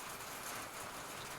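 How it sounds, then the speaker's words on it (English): Steady rain falls outside, a soft, even hiss of drops at moderate distance with no voices and no breaks. "It's pretty rainy and snowy outside"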